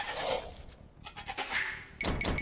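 Sheep bleats from the Age of Empires II video game, a few short, nasal bleats in a row over a busy background of game sounds, moderately loud.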